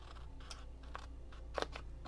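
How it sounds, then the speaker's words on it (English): Scissors snip through scored paper card for a crafted tote, a few short crisp cuts spaced apart with a sharper crunch near the end, close and quiet with no talking. "I'm going to cut on the score line"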